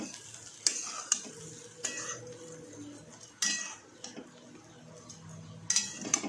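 Masala roti being stirred and tossed in a pan with the gas turned off: scattered metallic clinks and scrapes of a utensil against the pan, fairly close, with soft rustling between the sharper knocks.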